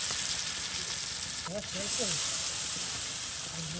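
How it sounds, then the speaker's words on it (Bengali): Fish frying in hot oil for a village iftar in Mymensingh, Bangladesh: a steady, close sizzle and hiss runs throughout, while a voice briefly speaks partway through. "এই যে দেখুন মাছ ভাজা করে নেওয়া হচ্ছে"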